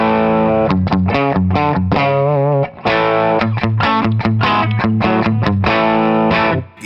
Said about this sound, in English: it's got that big giant Les Paul sound just like you want.